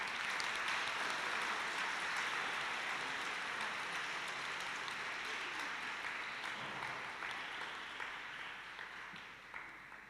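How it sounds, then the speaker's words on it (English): Applause from a graduation ceremony audience honouring grade 12 teachers: dense, sustained clapping that holds steady, then gradually thins and fades toward the end. "Let's all give the grade 12 teachers a round of applause and appreciation."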